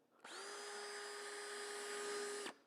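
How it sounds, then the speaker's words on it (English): A large power drill spins up, holds a steady high whine for about two seconds and then cuts off sharply, clear and alone against a quiet background. "They're going to get out a large drill."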